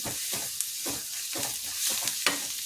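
Tomato tossed into hot oil in a frying pan and stirred, a steady bright sizzle with rhythmic scraping strokes of a spoon about every half second, close up.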